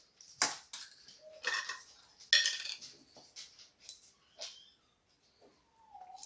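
Metal half-teaspoon clinks and scrapes against bowls and containers while measuring ingredients for peanut butter oat balls, in a series of short, irregular taps and clatters with quiet gaps between them.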